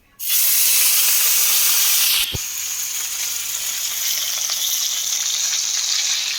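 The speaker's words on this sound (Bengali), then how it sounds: "আমি দেওয়ার সঙ্গে সঙ্গে কিন্তু আমি নাড়িয়ে দেবো, কারণ এটা বেশি ভাজবো না" Spices hit hot oil for a Bengali New Year fish pickle and burst into a loud, sudden sizzle. A quick clack of stirring follows, then a steady, slightly quieter frying hiss continues nearby with no talk.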